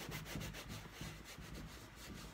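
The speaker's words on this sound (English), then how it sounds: "And so you just rub that in to the leather." Cleaning gel is rubbed into leather cowboy boots in quick back-and-forth strokes, a soft and steady scrubbing close by with no voices.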